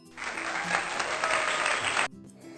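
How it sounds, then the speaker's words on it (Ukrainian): Children's-lesson sound of many hands clapping together, a dense steady burst of applause lasting about two seconds before stopping abruptly. "Звірята плескають в долоні та дякують вам за допомогу"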